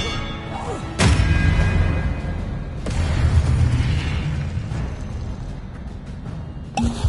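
An Expelliarmus spell effect in Hogwarts Legacy on PS5: a sudden bright burst followed by a booming, rumbling swell, with a second impact whoosh a couple of seconds later and a sharp hit near the end.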